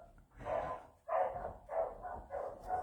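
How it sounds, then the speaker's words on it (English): Dogs barking from the floor above, a run of four or five muffled, rough barks in steady rhythm, each lasting about half a second, heard indoors at moderate distance with no talk over them. "Oh, that's the dogs barking now."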